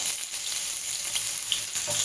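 Continuous hissing sizzle of onions frying in hot oil, steady and close, with a few faint pops and crackles.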